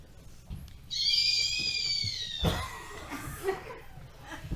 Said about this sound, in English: Those are the shrieking eels.